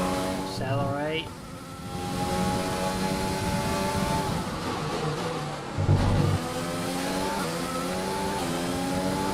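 A Formula 1 race car in F1 2020 revs and accelerates hard, its high engine whine rising and shifting through gears, with a brief dip and another car's pitch sweeping past, under occasional talk.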